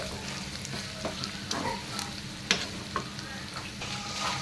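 Bitter gourd slices stir-fry in a pan, a steady sizzle running under irregular spatula scrapes and a few sharper clacks against the metal, close and moderately loud with no voices.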